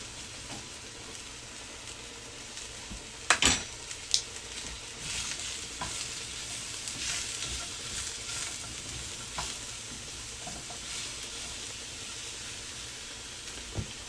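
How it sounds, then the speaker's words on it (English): Mushrooms and reserved garlic fry in olive oil in a pan, giving a steady close sizzle with a few sharp clinks of a utensil early on and soft stirring scrapes throughout. "Add my mushrooms. And some of that garlic that I reserved."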